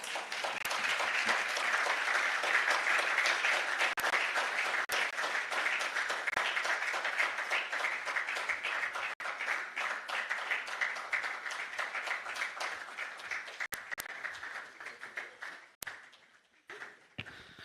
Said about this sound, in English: A round of applause once again for Mr. Olumide Balogun.